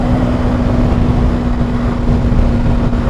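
A CFMOTO 300ss motorcycle engine accelerates in traffic, a loud, steady droning roar with constant wind rush throughout.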